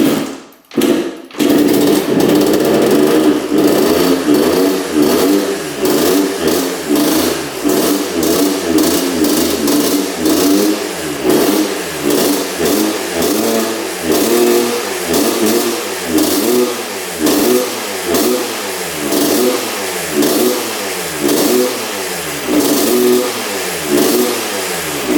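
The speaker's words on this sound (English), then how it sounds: "let's see if we can hear a difference in the way this thing sounds at full throttle" A dirt bike engine with a reported bog is revved hard at full throttle, loud and close, with repeated rising and falling rev cycles in a steady pulsing pattern after a brief sputtering start.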